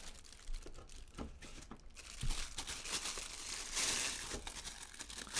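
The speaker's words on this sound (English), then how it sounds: "I had to rip this piece of tape right here" Tape ripped off the packaging of a Marantz Pod Pack 1 microphone boom arm kit: close crinkling and tearing of plastic and tape, irregular bursts with a louder rip near the end.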